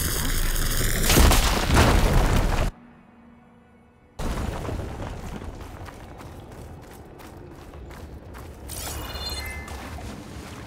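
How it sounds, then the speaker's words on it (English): Fire gleam blown up in the video game Horizon Forbidden West: a loud, booming blast with dense roar, cut by a brief near-silent gap, then rumbling aftermath and scattered crackling debris. "Should be able to blow up that fire gleam."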